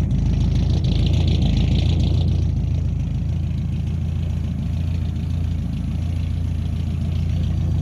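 Citroën C15 F1 fitted with a Renault engine said to make 1000 hp, idling: a loud, steady, deep rumble with a slightly rough pulse that stays even throughout, with no talk over it.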